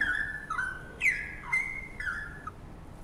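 A canary sings a run of clear, fairly close whistled chirps and tweets in a rhythmic sequence of short phrases, with no voices.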